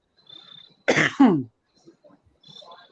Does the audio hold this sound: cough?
yes